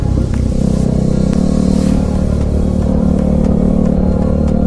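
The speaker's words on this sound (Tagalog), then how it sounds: "Pakinggan nyo yung pipe natin, napakaganda ng tunog guys." KTM RC 390 motorcycle fitted with a mid-link exhaust and resonator, a steady droning engine note held at constant revs while riding, loud and continuous with no talk.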